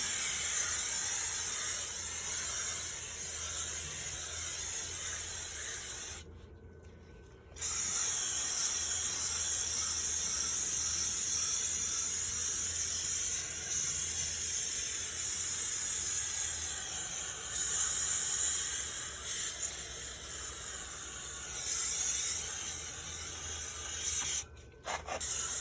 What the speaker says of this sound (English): Now we're just going to spray it on.